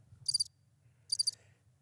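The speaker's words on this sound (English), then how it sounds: "Crickets." Two short bursts of cricket chirping, each a rapid trill roughly a second apart, fairly faint over a low steady background hum.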